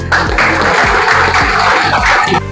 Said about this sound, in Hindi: ताली बजाओ भाई उसके लिए